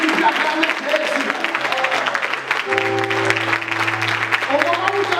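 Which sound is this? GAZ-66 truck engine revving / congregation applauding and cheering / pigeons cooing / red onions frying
congregation applauding and cheering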